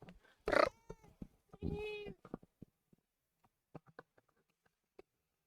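Echo the cat meows loudly twice, with long drawn-out calls close by, followed by soft scattered clicks and small sounds fading into quiet.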